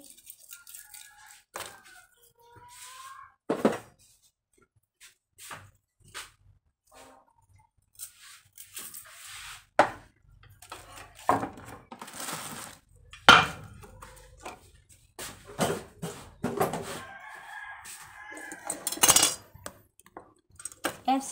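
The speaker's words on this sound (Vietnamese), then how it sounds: "Tỏi thì em sẽ băm ra chứ không có đâm giả nữa" Garlic being minced with a knife on a cutting board for a steamed chicken and mushroom dish, giving irregular bursts of sharp chopping taps and clinks with quiet gaps in between.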